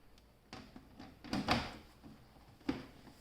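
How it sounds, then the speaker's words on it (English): A computer case's back panel slides into place, giving a few soft scrapes and knocks, then a sharper click or thud near the end, all close and fairly quiet. "you can install your back panel by sliding it onto the computer"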